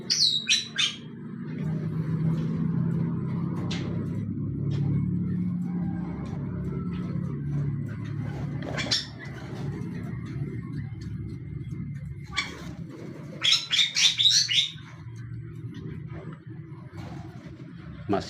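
Small birds in an aviary chirp and tweet in short scattered bursts, some close and bright, others fainter, over a low rumble of passing traffic with no talk.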